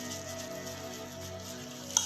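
Achara salad being mixed by hand after a pinch of salt goes in, a steady wet stirring and rustling that runs close and continuous, with a brief sharper clink near the end.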